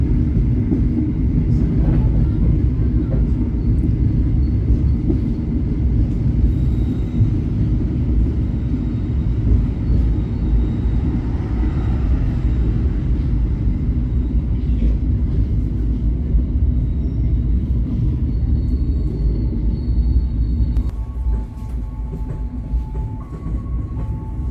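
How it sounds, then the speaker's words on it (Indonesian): Pasundan economy passenger train leaving Wates station, heard from on board: a steady, loud low rumble of wheels and carriage running continuously throughout, easing slightly near the end, with no voices. "Kereta api Pasundan baru saja meninggalkan stasiun Wates"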